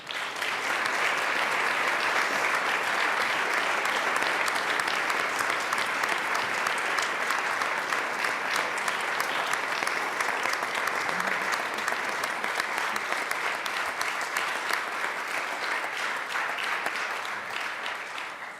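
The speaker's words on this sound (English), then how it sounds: "Members, please give our Gold Star families a round of applause." Sustained applause from legislators in a Colorado chamber honoring Gold Star families, steady and dense throughout, tapering slightly near the end.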